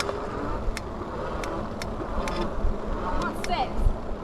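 Wallke H9 AWD electric bike motor whirring steadily under throttle outdoors, a constant buzzing hum with faint wind noise and brief higher chirps near the end.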